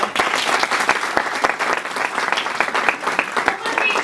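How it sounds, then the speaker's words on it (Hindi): College students at SICA College in Indore clap for themselves after an awareness event on cleanliness, giving loud, sustained, closely packed applause from a large group, with faint voices mixed in. "मैं आपको चाहती हूँ कि एक बार अपने आप के लिए ताली बजाएं।"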